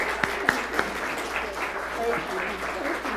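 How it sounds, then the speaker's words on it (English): Church congregation applauding at an annual meeting, a steady wash of clapping with a few louder sharp claps standing out near the start, with some voices mixed into the crowd noise. "And one more time, round of applause."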